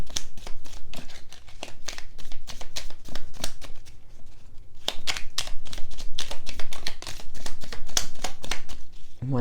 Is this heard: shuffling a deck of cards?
yes